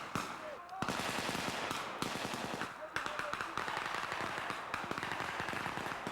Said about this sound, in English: the airborne soldiers in pre-ranger school are out on a simulated scouting mission where they encounter enemy fire